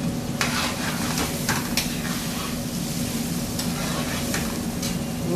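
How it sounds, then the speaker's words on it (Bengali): Tuna fish fries in a pan while being stirred, giving a continuous close sizzle with repeated scraping strokes of the utensil throughout. "এখন আমি এটাকে 2 থেকে 3 মিনিট এভাবে নাড়বো।"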